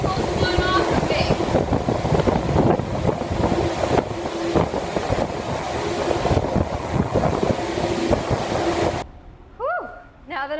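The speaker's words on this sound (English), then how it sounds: "This is what it's like in the air shower, getting all the particles blown off of me." Air jets in a clean room air shower blast in a loud, continuous rushing roar for about nine seconds, then cut off, leaving a few faint tonal chirps.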